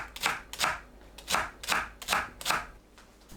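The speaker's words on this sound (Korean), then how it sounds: "부추를 4cm 길이로 썰어주세요." Chives being cut into 4 cm lengths with a knife on a cutting board, six crisp evenly spaced chops at a steady rhythm, close and alone with no talk.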